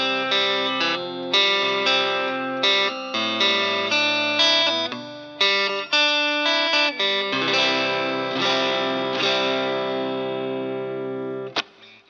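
A Fender Stratocaster electric guitar plays a sustained, compressed clean melody with chords through a compressor, no delay, notes ringing out with a gentle reverb tail, played alone.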